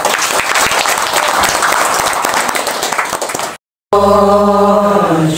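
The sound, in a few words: audience applause at a women's church gathering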